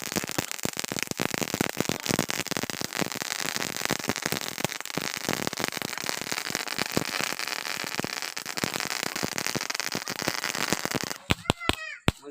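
Diwali firecrackers bursting in a rapid, dense barrage of crackling bangs that roars continuously for about eleven seconds, then breaks into a few scattered pops with voices and whistling fizzes at the end.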